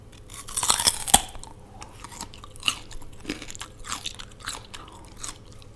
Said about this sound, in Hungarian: Harap bele.